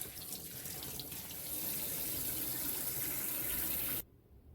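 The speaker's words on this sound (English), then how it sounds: "And cold water, and we're just going to scrub them down." Potatoes being scrubbed under a running cold-water tap in a kitchen sink, a steady close rush of water that cuts off abruptly near the end.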